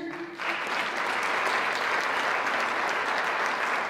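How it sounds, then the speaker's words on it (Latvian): Audience at a concert applauding a welcome, a steady, full roar of many hands clapping that swells in just after a faint hum and holds evenly throughout. "Aplausi!"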